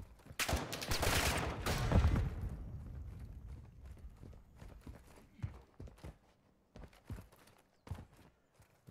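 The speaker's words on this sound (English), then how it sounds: "So much sniping." Sharp gunshots ring out in Call of Duty DMZ, a loud cluster early on followed by scattered, fainter cracks and distant shots in an otherwise quiet stretch, with no talk.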